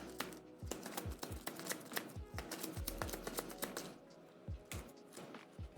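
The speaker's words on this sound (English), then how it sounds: "give these a good shuffle without looking" Game cards being shuffled by hand without looking, a quiet run of rapid crisp riffling clicks and flutters across several seconds, close and alone with no talking.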